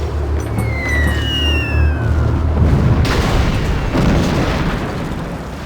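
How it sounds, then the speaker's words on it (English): In Civilization V, a guided missile strike gives high descending whistles, then a deep, rumbling boom that rolls on and fades over a few seconds. "Guided missiles once more."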